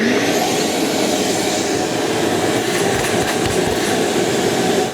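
A wet/dry shop vacuum fitted with a Mullet M5 cyclone dust separator runs in a workshop, a loud, steady, close whooshing roar that holds unbroken for the whole stretch.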